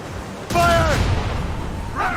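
A volley of cannon or gunfire from a naval battle in Assassin's Creed Rogue booms out loudly in one broad burst with a long rumbling tail, mixed with shouted voices and a brief tonal whine, and a second burst begins at the end.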